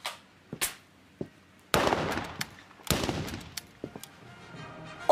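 Pistol shots ring out in an indoor shooting range hall: several sharp, separate cracks with gaps between them and echoing tails, fairly close, among quieter clicks and small knocks.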